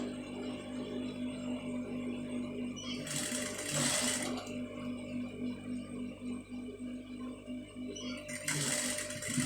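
A sewing machine stitches piping in two bursts of fast, steady mechanical chatter, each lasting about a second, with a constant low motor hum running underneath.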